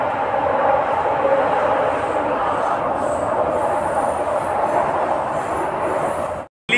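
Metro train at Qutub Minar metro station, a steady loud rumble of wheels and carriage noise running continuously, cutting off abruptly near the end.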